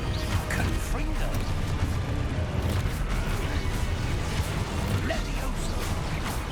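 The Confringo explosion spell goes off in the video game Hogwarts Legacy, a dense, loud, continuous wash of crashing blasts and rumbling booms with no quiet gaps.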